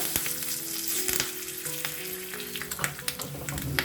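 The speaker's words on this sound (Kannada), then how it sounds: "ಈ ಥರ ಚಟಪಟಾನ್ ಸಿಡಿಬೇಕು" Dry red chillies and curry leaves crackle and pop in hot oil for a South Indian tempering (oggarane), a dense, steady sizzle broken by sharp bursts and snaps, close and loud with no talk.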